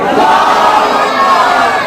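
Large crowd at a religious gathering roaring a chanted slogan in unison in response to a Nara-e-Takbeer call, one sustained loud collective shout filling the space.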